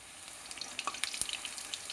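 Bhatura dough frying in hot oil for a chole bhature breakfast, a soft steady sizzle with scattered crackling pops, close and fairly quiet.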